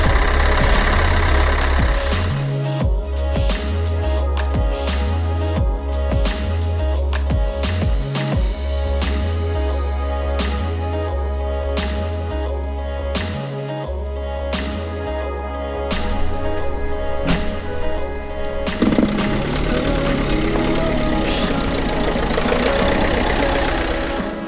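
An engine turns over and starts, a rhythmic cranking chug that catches into a steady, loud idle running close by.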